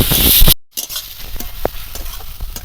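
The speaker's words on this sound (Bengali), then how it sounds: "ভালো করে পেঁয়াজটা ভেজে নেব" Chopped onion with salt and garlic frying in a pan for a Bengali biryani, a loud, close sizzle that cuts out briefly, then quieter stirring scrapes and clicks with a low, steady fry underneath.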